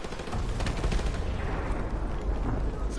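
Dense gunfire from the Call of Duty Modern Warfare Remastered video game, a continuous loud barrage of overlapping shots and automatic bursts with no gaps, close and heavy throughout.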